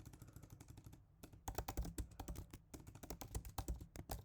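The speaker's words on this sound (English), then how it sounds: "I'm just going to type a really short message." Someone types a short message on a computer keyboard in quick, uneven bursts of crisp key clicks, close to the mic, with brief pauses. Nobody speaks.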